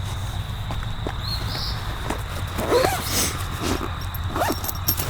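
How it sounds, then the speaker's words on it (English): A zipper being drawn closed around a case holding a magazine, several short scratchy zipping strokes close by in a quiet room, with light handling rustles in between. "All zipped up."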